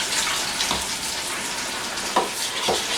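Mayonnaise, ketchup and sriracha being stirred together in a bowl: soft, close wet scraping and swishing, with a few sharper taps of the spoon.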